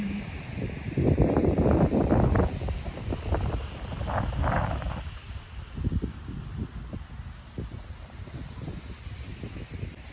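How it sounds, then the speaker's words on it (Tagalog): Cold wind by the sea in Vancouver buffets the microphone in a steady broadband rush, with gusts swelling and easing over about ten seconds and low rumbling thumps underneath. "Medyo malamig lang ang hangin."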